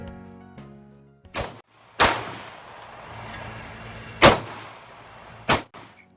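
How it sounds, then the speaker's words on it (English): Four sharp, loud gunshot cracks from a 30 mm Mauser gun, unevenly spaced, each with a short ringing decay above a steady background rumble, with no talking. "We have a mini pocket gun. That's a 30 mm Mauser."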